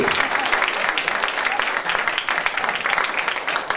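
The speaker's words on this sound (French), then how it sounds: "on peut les applaudir" Theater audience at a stage hypnosis show applauding, a full sustained wash of many clapping hands, fairly loud and even, with faint crowd voices mixed underneath.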